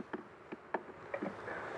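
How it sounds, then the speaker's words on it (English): Honeybees buzz during a July beehive inspection, a steady insect drone with several brief louder swells as individual bees pass close by, no talking. "Got bees staring at me from almost every frame"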